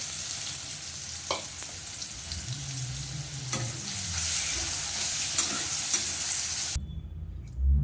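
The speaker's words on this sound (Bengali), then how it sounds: "গাজরটা এবার দিয়ে দিলাম ওইরকম করেই ভেজে তুলে নেবো গাজরটাও" Carrots frying in oil in a pan give a close, steady sizzle with occasional stirring scrapes, then the sound cuts off abruptly near the end.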